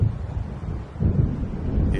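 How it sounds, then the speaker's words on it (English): Low rumbling thunder of an approaching storm in the video game Alan Wake, a steady deep roll with gusty swells, sounding fairly close and heard alone. "It seems there's a storm coming."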